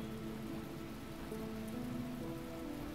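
Steady rain hisses without a break from start to finish in a rainy outdoor area of the 2014 puzzle game The Talos Principle on PS4. Soft tonal music runs underneath, and no one speaks.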